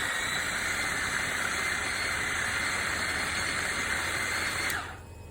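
Blender whizzing a can of tomatoes for meatballs, a steady loud whirring drone with hiss that runs continuously, then cuts off abruptly near the end.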